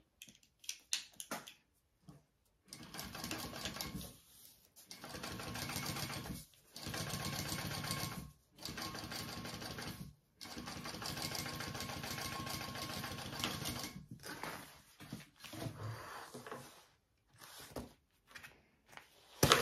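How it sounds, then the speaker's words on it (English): Sewing machine top stitching along the exterior of a handbag, running in repeated bursts of several seconds with short pauses between them, close and fairly quiet. "We're going to top stitch along the exterior part."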